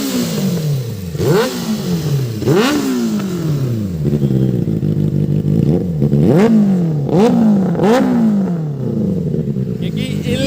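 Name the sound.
Benelli 600i inline-four motorcycle engine revving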